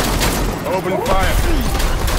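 Rapid gunfire from the video game Death Stranding, loud and continuous throughout, with voices talking over the shooting.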